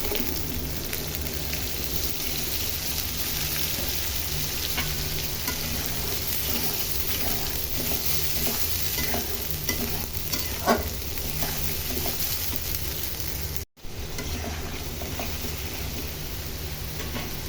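Blended spice paste fries with fried potatoes in a pan, giving a steady, close sizzle under continuous stirring and scraping, with occasional louder clicks and one brief gap near the end.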